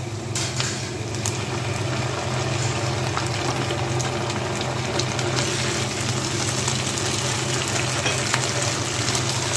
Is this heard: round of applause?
no